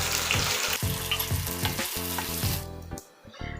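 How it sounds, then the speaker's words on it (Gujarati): Mustard seeds, cumin and chillies sizzle loudly in hot oil for a Gujarati tempering, crackling and popping close up in an even stream before it drops off sharply near the end. "હવે આને આપણો વઘાર કરીશું"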